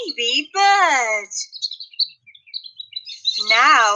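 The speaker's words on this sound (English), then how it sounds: "What's in the egg? A baby bird." Baby bird chirps in a children's English lesson, bright tweeting calls in two loud bursts with softer twitters between.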